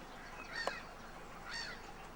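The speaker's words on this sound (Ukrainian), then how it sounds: "Ось Сумні качки" Two faint honking calls from waterfowl, about a second apart, carry over a quiet outdoor background.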